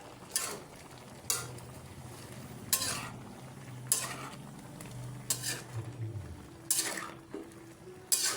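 A cook stirs fish-and-taro soup in a pot, a spoon scraping and knocking the pot in regular strokes about once a second over a soft sizzle.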